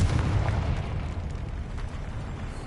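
Confringo fire spell exploding in the Hogwarts Legacy video game, a loud rumbling blast with a crackling burst that fades into a low roar over under three seconds.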